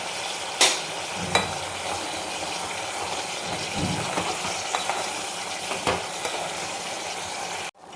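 Chopped coriander stirred into mutton curry in a pan, a steady close sizzle with scraping spoon strokes and a few sharp clinks against the pan, no talking.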